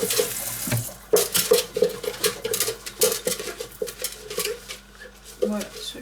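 Parts of a vegetable juice extractor are rinsed and handled under a running tap at a sink. Water gushes and splashes with intermittent plastic knocks and clatter, and a voice talks over it.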